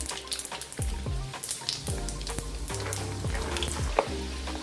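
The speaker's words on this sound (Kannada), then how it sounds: "ಎಣ್ಣೆ ಕಾದಿದೆ. ಸಾಸಿವೆ, ಆದಮೇಲೆ ಕಡಲೆಕಾಯಿ ಬೀಜ ಹಾಕ್ತಾಯಿದ್ದೀನಿ." Mustard seeds and peanuts frying in hot oil, a steady close sizzle with sharp crackling pops and spitting as the seeds burst.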